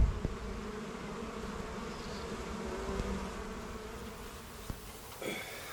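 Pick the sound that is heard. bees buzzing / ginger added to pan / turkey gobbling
bees buzzing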